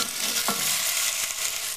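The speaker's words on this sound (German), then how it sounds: "Das Fleisch, Schweinsragu von Coop Naturaplan, leicht würzen und im heißen Öl anbraten." Pork ragout seared in hot oil in a pan, a continuous bright sizzle with a couple of stirring scrapes, close and loud, no voices.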